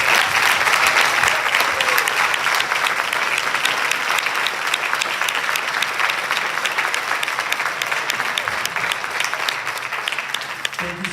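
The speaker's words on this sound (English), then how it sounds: "How about one more round of applause for all of our performers tonight?" A concert audience gives a sustained round of applause to the performers after a school jazz and instrumental chamber show, a dense, even roar of many hands clapping that carries on for over ten seconds.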